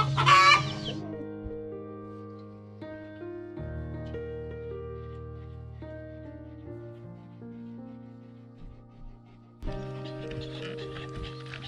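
A hen gives a short burst of clucks at the start, then steady tonal music carries on, and a few more faint clucks return near the end.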